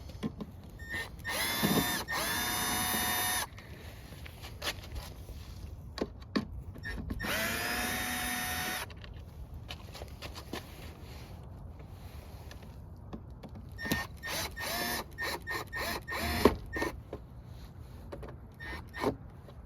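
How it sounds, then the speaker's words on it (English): Power screwdriver whirring in several bursts as four T20 Torx screws come out of a Western snowplow headlight, with quieter handling clicks and clatter between bursts, close up and without talk. "you have 2 top screws and 2 bottom screws, which is a T20 star bit head. So you're going to remove all 4 of those."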